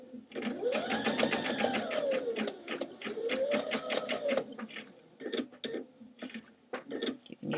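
A sewing machine stitches thrift store jeans in rapid rhythmic bursts, its motor whine rising and falling, then shorter stop-start runs of stitches close by.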